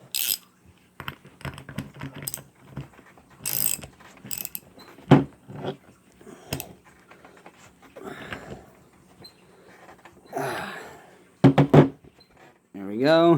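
Tightening a fastener on the fuel distributor of a Mercedes 560SL with a hand tool, a few quick ratcheting clicks and metallic taps close by, scattered between bursts of speech.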